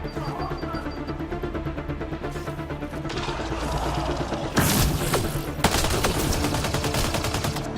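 Assault rifle fire in the video game Mass Effect: Andromeda, loud sustained bursts of rapid automatic shots with heavy impacts and a sharp blast near the middle, continuous and close.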